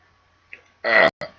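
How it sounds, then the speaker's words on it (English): A single throaty burp, short and close, preceded by a faint click and followed by a brief breathy tail. "Oh, that burp finally came out."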